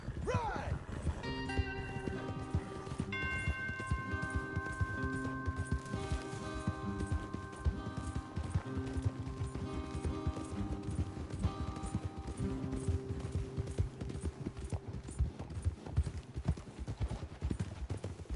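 Horses' hooves clip-clop steadily at a gallop in the video game Red Dead Redemption 2, mixed with sustained musical tones and ambient noise, continuous and moderately loud throughout.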